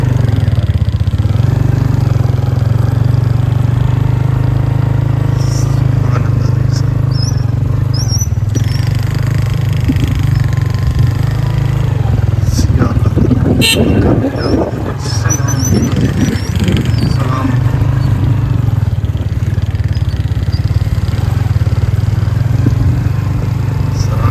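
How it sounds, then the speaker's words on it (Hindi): A motorcycle rides along a mountain road in the Saran Valley near Mansehra, its steady engine drone continuous throughout, with wind buffeting and a rougher, louder burst midway. "तो आज बाइक चला रहे हैं"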